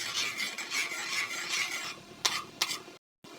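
A spoon stirs food around a pan as it cooks, giving steady, close scraping and rubbing strokes that end in a few separate scrapes and a brief pause, with no talking.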